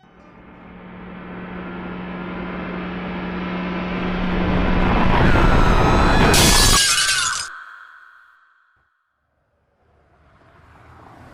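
Staged car crash effect: an engine and tyre roar builds over several seconds into a sudden loud impact with bright shattering glass and tinkling debris, then abrupt silence and a faint tail, no voices.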